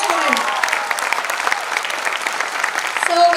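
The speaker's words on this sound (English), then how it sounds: "Huge round of applause for him." Audience applause at a Republic Day event in Mumbai, steady clapping filling the hall for about three seconds at close range, with a brief whistle-like tone near the end.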